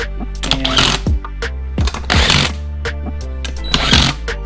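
A power tool drives bolts on a Method Race Wheels MR101 beadlock wheel in a star pattern, loud close bursts of buzzing whir repeating several times with short pauses between bolts.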